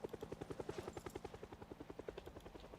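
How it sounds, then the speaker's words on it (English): Helicopter in the video game Project Zomboid passing overhead, a steady rapid rotor thump pulsing evenly throughout, fairly faint and heard alone. "Love hearing the random helicopter."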